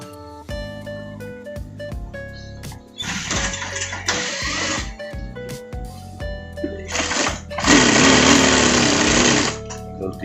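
A sewing machine stitches a front pocket on a parka jacket in several bursts of rapid mechanical chatter, with short pauses and clicks between runs and the longest, loudest run near the end.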